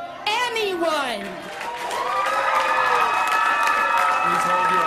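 Crowd at a public school board meeting claps and cheers loudly with shouts and voices mixed in, a sustained noisy roar of audience reaction.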